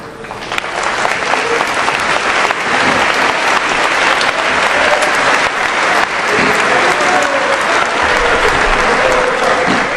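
A church congregation applauds loudly during a sermon, continuous dense clapping for about ten seconds, with faint voices underneath.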